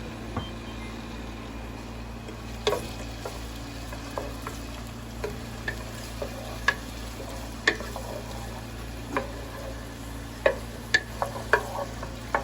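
Onions fry in a pan over medium heat for beef tacos, giving a soft, steady sizzle while a utensil stirs them, adding scattered light clicks and scrapes that grow more frequent toward the end.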